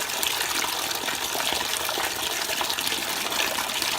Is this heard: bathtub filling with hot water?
yes